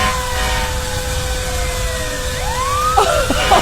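A wailing fire engine siren rises and falls in a comedy sketch about a house on fire, sounding loud and steady before sweeping tones and bursts break in near the end.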